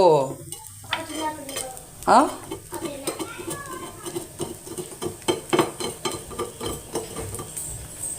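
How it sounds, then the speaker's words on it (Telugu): Dosa batter cooks on a hot pan with a steady close sizzle, broken by clinks and scrapes of a utensil against the pan and faint voices in the background. "దోశ వేస్తున్నాను"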